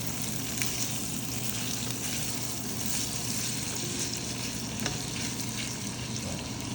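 Pork and pork blood for dinuguan cooking in a pan, giving a steady, close sizzle and frying hiss with occasional stirring scrapes, continuous throughout with no talk.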